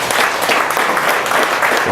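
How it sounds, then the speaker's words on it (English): An audience claps after a startup pitch, giving a brief, full burst of even applause at a steady level. "can we get a round of applause?"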